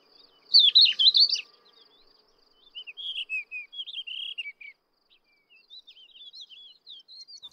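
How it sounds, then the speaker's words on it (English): Bright, rapid warbling song of a subalpine warbler with scratchy chattering phrases, followed by thinner, sweeter trills from a Thekla lark, fairly close in quiet spring surroundings. "The birdsong of subalpine warblers and thekla larks can be heard all around."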